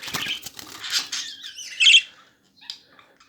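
A pet budgerigar chirps and squawks in quick bright bursts close by, with a louder squawk toward the end and brief rustling between calls.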